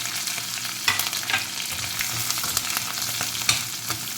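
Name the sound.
shallow frying onions with curry leaves and chilies in pan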